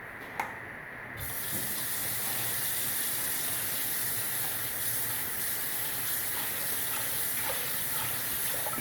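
Tap water runs steadily into a cooking pot to rinse it out after goat head and foot soup meat, a continuous close hissing splash starting with a brief quieter moment and then holding even throughout.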